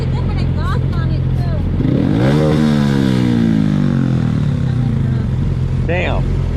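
A Honda Grom motorcycle fitted with an aftermarket exhaust revs up and then eases off, its engine note climbing and falling beneath a busy backdrop of people chatting nearby.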